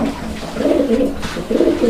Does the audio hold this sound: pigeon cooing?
yes